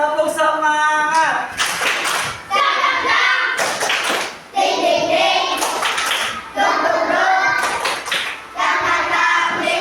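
A group of children and a leader doing a rhythmic spirit clap, several bursts of clapping in a steady pattern alternating with chanting voices.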